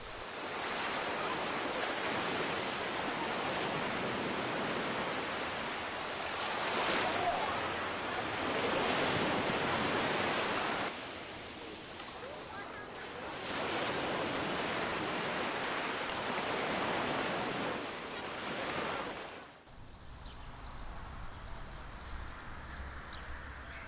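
Ocean surf on a quiet beach of Portugal's Alentejo coast, with broad waves rolling in and receding in long swells under wind noise, then a sudden drop to a softer, more distant wash near the end.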